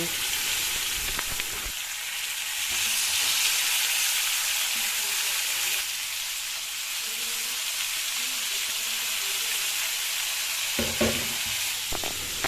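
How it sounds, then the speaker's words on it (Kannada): Tomato and green chilli fry in a tempering for temple-style rasam, a steady broad sizzle that runs the whole time with a few louder stirring scrapes near the end, close and without speech. "ಟೊಮೆಟೊ ಸಾಫ್ಟ್ ಆಗೋವರೆಗೂ ಫ್ರೈ ಮಾಡಿ"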